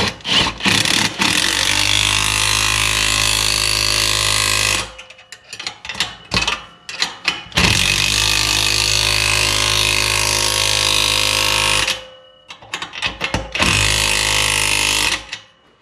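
Power tool zipping down exhaust clamp nuts on a 1970 Chevelle during a 2.5-inch Pypes exhaust install, loud bursts of buzzing rattle separated by short pauses and clicks.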